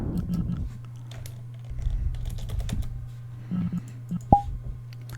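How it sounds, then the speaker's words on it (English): Bursts of computer keyboard typing, clicking at close range over a steady low hum, with pauses between runs of keys and a short electronic beep near the end. "and then a moment of typing."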